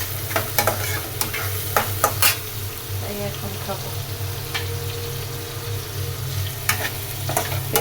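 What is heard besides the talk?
onion and prawns frying in a pan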